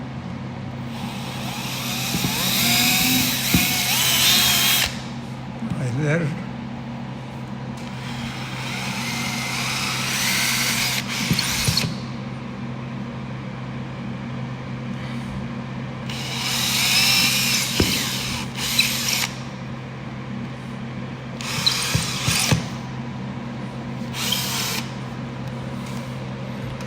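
A power drill whirs in several bursts, some long and some short, bored into a wall with quiet gaps between; a voice speaks briefly.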